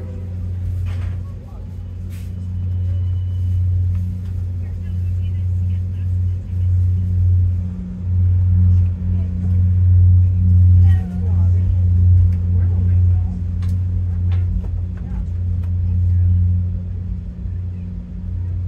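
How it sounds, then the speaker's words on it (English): An Amtrak Northeast Regional train pulls out of Boston South Station on its run to Washington with a steady, heavy low rumble heard from on board, swelling slightly and broken by faint clicks and rattles. "And like that, we depart on time out of South Station at 7:40 a.m."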